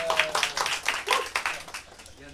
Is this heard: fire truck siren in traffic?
no